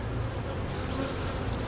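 Honey bees swarm around an open hive during a routine inspection, their buzzing a close, continuous, even drone that never breaks.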